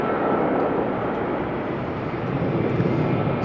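An airliner taxis toward runway 18L at Amsterdam Schiphol, its jet engines giving a steady, broad roar that holds at an even level throughout, moderately close, with no talk.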